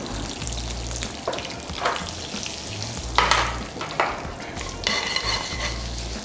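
Curry leaves and a pinch of asafoetida crackle and sizzle in hot tempering oil for a chutney, a steady frying hiss with sharp pops and bursts throughout, close and fairly loud.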